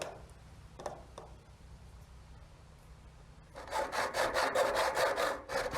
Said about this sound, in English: I'll make the first cut with my hacksaw and finish it up with my snips